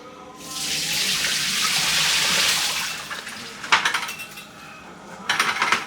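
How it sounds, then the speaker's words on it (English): Water runs hard from a tap over sand turtles in a colander, a loud rushing spray for a few seconds. Then metallic clatters and rattles follow as the colander is shaken and knocked. "Alright, we're gonna start rinsing the sand turtles."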